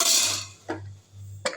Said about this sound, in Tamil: இப்போ மூடி வச்சிடலாம்.